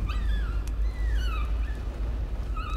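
Dogs whimpering in the horror video game Layers of Fear: several thin, falling whines repeat through the short stretch over a low, steady rumble.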